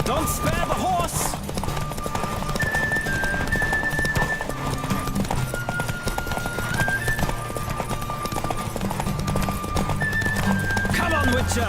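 Hoofbeats of a galloping horse in The Witcher 3 clip-clop steadily through a race, with a neigh or whinny breaking in, all under ongoing game speech and background sound.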